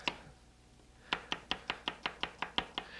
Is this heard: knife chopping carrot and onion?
yes